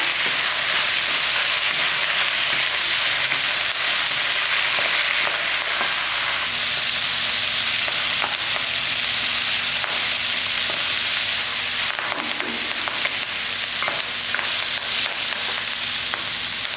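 Vallarai keerai (pennywort) leaves are sautéed in a pan for thuvaiyal, giving a dense, steady sizzle with rubbing, scraping stirs, close and loud throughout, with no talking.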